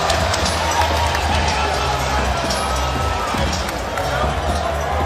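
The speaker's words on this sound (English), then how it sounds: "The crowd reacting as they get a glimpse of Gabriel Flores" A boxing arena crowd keeps up a dense, steady roar during a pro bout, loud and continuous with no clear peaks, while voices murmur within it.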